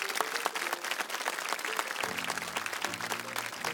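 A live show audience in La Oliva, Fuerteventura, claps in steady, lively applause, with low tones from a sound system entering partway through.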